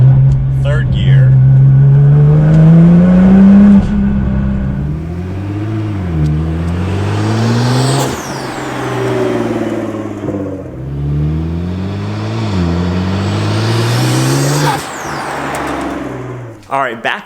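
A Nissan R35 GTR accelerates hard in 3rd gear, its engine note climbing steadily through repeated rising sweeps and then dropping off near the end, where the blow-off valve lets off. The engine is loud and close throughout.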